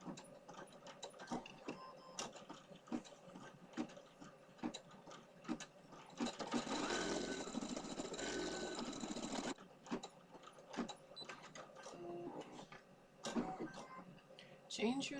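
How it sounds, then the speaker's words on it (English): An embroidery machine runs a satin stitch around a pair of socks, a busy rapid mechanical chatter of needle strokes that grows denser and louder midway, with a person talking intermittently over it. "This one will go around a satin stitch around the socks."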